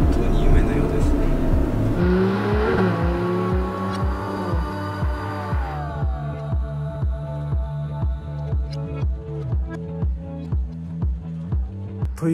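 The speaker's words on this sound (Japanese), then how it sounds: "この中年 A 小木山が最新の12気筒をこうやって走らせてるなんて、本当に夢のようですね。" A Ferrari 12Cilindri V12 drives on a tight road, the engine note loud and close with rising and falling revs and a rhythmic pulsing pattern through the second half, and a voice speaks over it at times.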